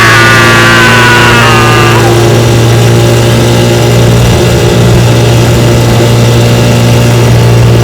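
A restored vintage Evinrude outboard motor, model 3706C, runs on a bayou test run. Its loud, steady droning hum carries close up the whole time, with a brief high whistling tone near the start.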